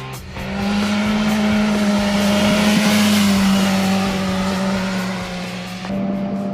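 A 2015 BMW S1000 XR motorcycle engine revs up, its strong steady tone swelling in loudness and then easing back, heard close with no voices.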